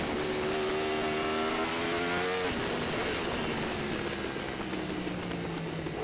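Formula Pacific race motorcycles roar loudly and continuously past at close range, engines held hard on the throttle, with pitch sweeps as bikes pass and shift during a road race.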